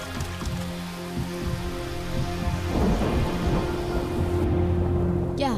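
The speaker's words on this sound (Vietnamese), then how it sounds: "bên ngoài mưa lớn như vậy" Heavy rain pours outside in a steady hiss while rolling thunder rumbles low and continuous beneath it, building slightly before cutting off abruptly.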